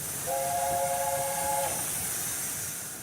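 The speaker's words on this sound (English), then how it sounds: "There's the sign, here's the whistle." An A4 steam locomotive whistle sounds one steady, chord-like blast lasting about a second and a half, over a constant roar and hiss of the moving engine.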